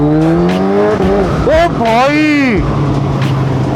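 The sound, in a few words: Suzuki Hayabusa motorcycle at full throttle, ECU stage 2 remap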